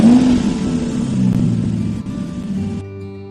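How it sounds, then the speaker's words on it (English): A car engine revs loudly and continuously, holding a rough mid-range roar before settling to a steadier idle hum near the end. "car,"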